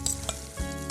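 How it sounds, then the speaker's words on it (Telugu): Chutney tipped into a hot oil tempering in a pan, crackling and sizzling close up in a short, dense burst with a few sharper pops, no voices. "పోపులోకే నేను పచ్చడి వేయబోతున్నా"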